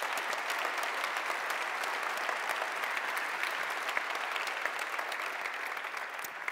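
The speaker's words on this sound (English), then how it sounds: "I think it's time for an applause for all the people you don't see." A conference audience applauds, steady dense clapping from a large crowd that holds evenly for several seconds without a pause.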